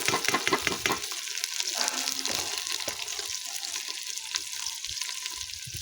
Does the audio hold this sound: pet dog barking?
no